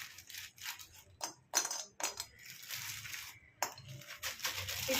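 Dried lentil dumplings (bori) drop into a hot dry wok, clattering and clinking against the metal in several quick, hard hits, close and fairly quiet.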